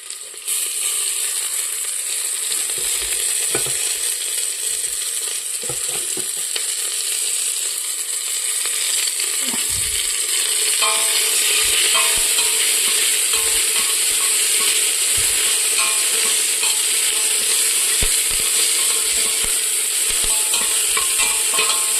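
Onions sautéing with drumstick leaves in a pan, a steady loud sizzle running throughout with scraping stir strokes and clinks of a utensil against the metal.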